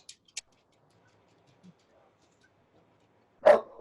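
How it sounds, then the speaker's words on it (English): A dog gives a single short, loud bark near the end after a long quiet stretch broken only by a few faint ticks, with a smaller follow-up yelp right after it. "My dog has some opinions about this movie."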